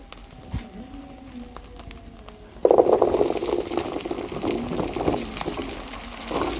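Orboroi fruits tipped into a pan of ginger-garlic paste, bay leaf, cardamom and cinnamon frying in oil, a sudden loud sizzle that settles into steady bubbling crackle after a quiet start.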